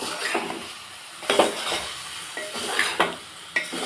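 Broad bean fry stirred in a pan over medium flame, with intermittent scraping and clinks of a spoon against metal over a soft background sizzle.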